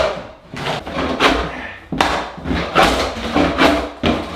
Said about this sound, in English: This flooring is actually coming up pretty easy with our handy dandy floor scraper.